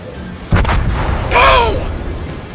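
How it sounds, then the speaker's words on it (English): Naval gunfire in World of Warships as an enemy destroyer is blown up: a sudden loud boom followed by a sustained rumbling blast with a rising whine, alone with no talk. "One left. Enemy destroyer blown up."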